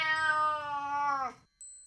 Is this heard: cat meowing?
yes